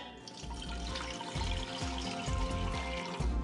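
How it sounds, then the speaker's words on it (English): A steady stream of water is poured into a cooking pot for lentils and rice, a continuous splashing rush with gurgling low tones and no talk. "Next, add 3 cups of water"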